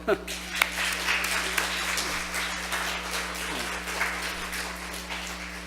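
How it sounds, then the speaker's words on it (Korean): A church congregation applauding during a Sunday sermon, a soft, spread-out patter of clapping over a steady low hum, with talking mixed in. "여러분들 박수 한번."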